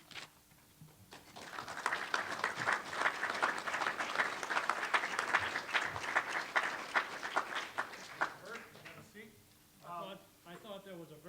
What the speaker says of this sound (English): I thought that was a very polite clap